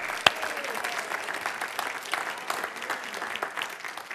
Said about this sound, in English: you can give her a clap there.